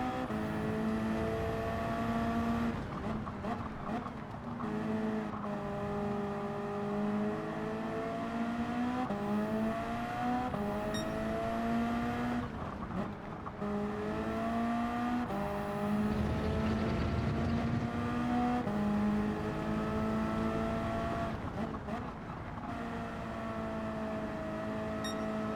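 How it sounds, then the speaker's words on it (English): Ford Mustang race car engine screaming down the straight at Brands Hatch in Gran Turismo 7, a loud sustained high-revving drone with rising gear pulls and brief shift dips, continuous throughout. "Look at the speed of the Mustang down the straight."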